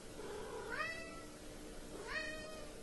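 A pet cat meows twice, each call a clear rising-falling cry spaced about a second apart, close by against a steady low room hum.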